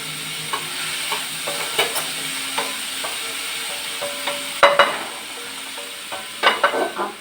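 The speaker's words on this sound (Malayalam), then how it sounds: "ഒന്ന് ഇളക്കി കൊടുക്കാം. നമ്മുടെ എണ്ണയും കടുകും എല്ലാം കൂടെ ഒന്നാവണ്ടേ." Green chilies stirred in hot oil with mustard seeds, a soft constant sizzle broken by repeated scrapes and clinks of the spoon against the pan.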